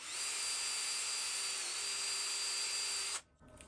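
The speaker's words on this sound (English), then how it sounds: "we'll drill a little hole in the end here." A power drill whines steadily at high speed for about three seconds, then cuts off abruptly, leaving a faint rattle behind.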